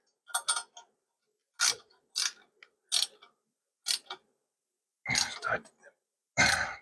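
Ratchet wrench tightening the lower crash bar bolts on a BMW R1300GS motorcycle, heard as short bursts of close metallic clicking separated by pauses, with low grunts or voice sounds mixed in.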